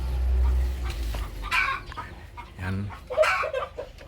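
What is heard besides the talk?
chickens clucking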